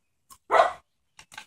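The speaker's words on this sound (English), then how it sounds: "Yeah, my dogs are barking in the background." Dogs bark from the background in a few short bursts: one loud bark, then a pair of quicker, softer yips after a pause.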